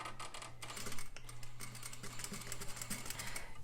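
A sewing machine stitches back and forth through fabric on a quarter-inch seam, a rapid close mechanical patter with a steady motor hum underneath and a brief pause partway through.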